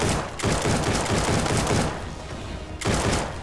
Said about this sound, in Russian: Блин, громкость выстрелов.